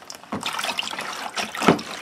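Cold water mixed with baking soda sloshing and splashing in a container while a rusty hatchet is rinsed, uneven liquid swishes with a sharper splash near the end, close and fairly loud, no talking.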